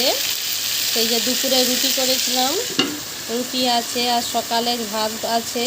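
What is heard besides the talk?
potatoes frying in a pan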